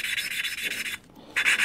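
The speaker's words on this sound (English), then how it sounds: "moving it around a little bit to a different position to get a nice even grind" An engine valve lapped against its seat with grinding paste, a close steady gritty rubbing that pauses briefly and then resumes after the valve is turned to a new position.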